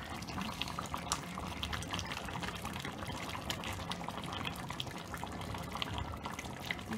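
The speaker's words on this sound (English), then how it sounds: "We're going to add our coconut milk." Coconut milk is poured into a simmering beef masala sauce, making a steady, soft liquid pouring and trickling sound throughout, with no talking.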